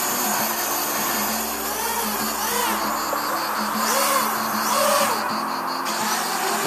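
Cheerson CX-91B quadcopter motors whir in a steady, close buzzing drone that rises and falls slightly as the craft hovers, with whining tones shifting throughout.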